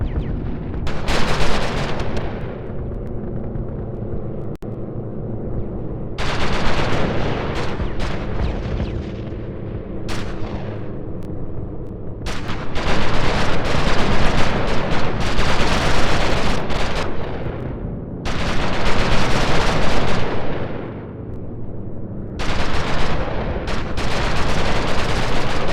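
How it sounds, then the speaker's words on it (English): German anti-aircraft guns pound away in sustained, dense barrages, loud and close, with rapid overlapping bursts of gunfire and booming flak that swell and pause in several waves over the whole stretch, no voices heard. "The German AA guns turn the sky into a firestorm over the area"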